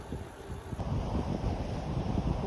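Wind buffets a microphone on the Taiwan coastline, a constant low rumble with the wash of ocean waves behind it and a faint tonal hum high above.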